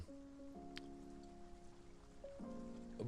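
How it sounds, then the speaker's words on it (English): Soft, steady rain patter sits faint beneath gentle jazz and lo-fi music with sustained melodic notes, continuous and low in level throughout. "I've got some like soft rain sounds going behind the music"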